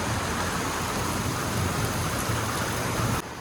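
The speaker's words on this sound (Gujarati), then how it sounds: "આ અત્યારે કહેવાય ને માવઠાનો વરસાદ છે" Heavy unseasonal rain pours down steadily in a dense, loud, unbroken hiss during a storm, with no voices, ending abruptly.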